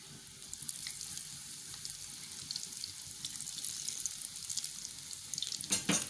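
Cauliflower pieces frying in hot oil give a steady, soft sizzle with a faint watery hiss throughout, ending in a brief louder crackle near the close; no one speaks.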